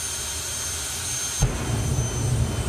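A jet car at a drag racing event at Santa Pod Raceway, FIA European Finals, a steady high roar that suddenly swells into a louder, rumbling blast about halfway through and holds close and powerful.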